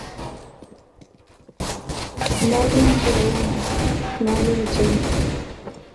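Rapid gunfire in a CS:GO co-op rescue mission: repeated close, loud bursts of automatic shots over a couple of seconds, with players talking excitedly in Turkish over the shooting.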